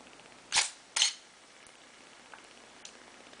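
Two sharp mechanical clicks of a Canon EOS 500D shutter at a slow speed in night portrait mode, about half a second apart, close and crisp, followed by quiet with a couple of faint ticks.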